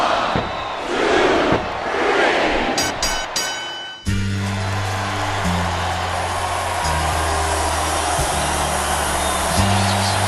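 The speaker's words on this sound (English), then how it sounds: "Sounds like this crowd's got something on their minds, King." A loud arena crowd in Smackdown vs RAW 2007 roars and chants, then shifts into a sustained, droning cheer with a few sharp electronic bursts near the start.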